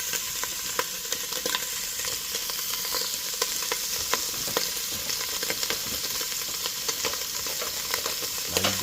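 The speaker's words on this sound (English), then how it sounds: "You see how that's frying up real good." A pan of green beans sizzles steadily up close, with frequent small crackles and pops over a constant frying hiss and no voices.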